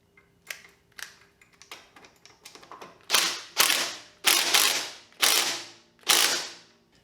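An electric impact wrench tightens a motorcycle triple tree, a few light ratcheting clicks followed by five loud, close, evenly spaced rattling bursts, no talking.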